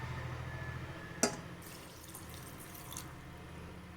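Water trickles and splashes faintly into a pan of sugar nearby, with a couple of sharper drips and a clink near the end.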